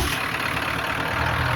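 Idling 7.3-liter diesel engine of a 1997 Ford F-250 HD pickup, a steady close, loud low rumble with continuous hiss, running alone without any talk.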